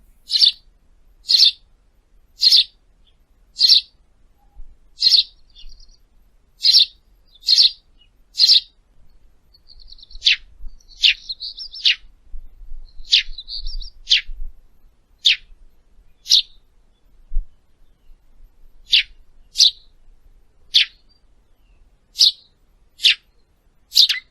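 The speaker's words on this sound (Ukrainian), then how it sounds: "Давайте послухаємо спів пташок, як цвірінькають горобчики." Sparrows chirp in a steady run of sharp, bright calls, near and clear, with brief twittering bursts in between and no other sounds.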